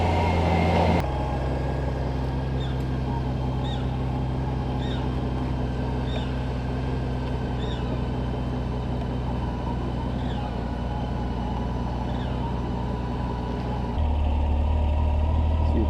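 A motorcycle engine idles steadily close by, a low constant rumble that holds for several seconds before a brief change in pitch near the end.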